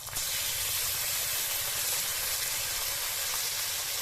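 Ground garlic, ginger, cumin, coriander and dried chilli pastes sauté in a pan for catla fish biryani, starting abruptly in a loud, continuous hiss that holds steady and close, with no talk.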